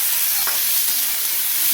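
Onions fry with chicken in a pan, producing a steady, loud close sizzle with a brief stir partway through.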